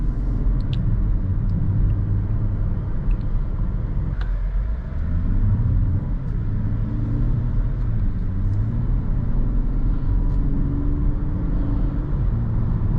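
A 2023 Volkswagen Atlas SEL R-Line on the road gives a steady low interior rumble of engine and tyres, with the engine note rising and falling gently as it drives.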